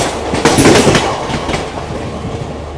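Shalimar Express (14661, Barmer–Jammu Tawi), an ICF-coach train, running on a parallel track and overtaking, heard as a loud, steady rumble with clickety-clack wheel beats, strongest early on and then holding at an even level.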